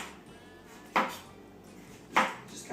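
Two sharp knife strokes slicing the peel off lemons on a cutting board, each a brief crisp scrape-and-knock spaced about a second apart, close and fairly loud against a quiet room.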